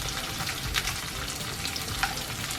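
Guajillo chilies and onion sizzling in a hot pan, a steady close frying hiss with a couple of soft scrapes as the mixture is stirred.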